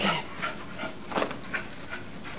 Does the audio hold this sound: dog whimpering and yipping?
yes